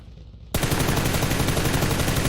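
A sudden, loud burst of rapid automatic gunfire in PUBG Lite, starting abruptly after a quiet moment and continuing without pause to the end.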